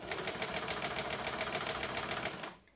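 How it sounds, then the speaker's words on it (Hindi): Sewing machine running a straight seam on a blouse, a steady rapid mechanical stitching rhythm at close range that stops abruptly at the end. "इसके ऊपर हमें सीधी सिलाई लगानी है"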